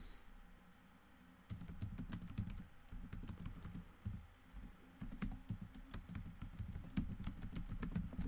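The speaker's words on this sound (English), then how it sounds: "Apologies if you can hear typing noises." Quiet, continuous clatter of typing on a computer keyboard, rapid irregular keystrokes in bursts with brief pauses, close and alone.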